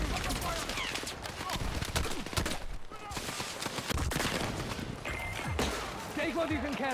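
Gunfire in the video game Battlefield 6, bursts of shots scattered through a busy mix of thuds and game sounds, with a voice talking over parts of it.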